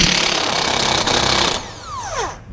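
A power impact tool loosens a camber bolt on a car, a loud, dense rattling whir that runs steadily and then winds down with a falling pitch as the tool spins out.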